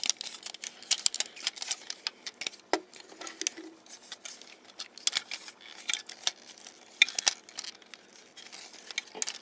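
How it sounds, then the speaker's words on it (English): Plastic parts of a Transformers Alternators Smokescreen toy being folded and pulled apart by hand: a quiet, close run of small clicks, snaps and taps at an irregular pace, with no talking. "Fold the seats up, break apart the legs."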